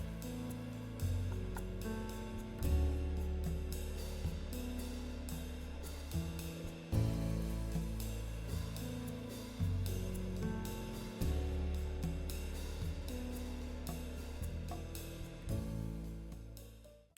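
A drum kit played with sticks drives a full band track, crisp hits and cymbal taps over bass and keys, steady and fairly quiet.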